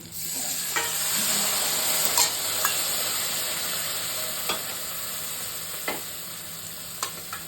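Fried potatoes sizzle steadily in a pan as mustard paste and green chilli paste are stirred in, with a constant frying hiss and occasional sharp scrapes and taps of the spoon.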